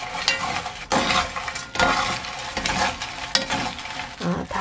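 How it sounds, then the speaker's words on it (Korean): Sliced burdock root is stir-roasted in a pan over low heat, producing a soft dry sizzle and repeated rhythmic scraping and rattling as the pieces are tossed and stirred close by. "이렇게 불을 약하게 하기 때문에 한참 볶아야 됩니다"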